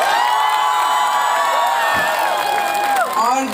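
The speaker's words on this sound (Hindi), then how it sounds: "उसको सब लोग ताली बजा के" Crowd at an open-air Azadi Ka Amrit Mahotsav celebration in Central Park, Delhi, cheering and whooping in welcome, a loud continuous roar with high shouts and whistles throughout.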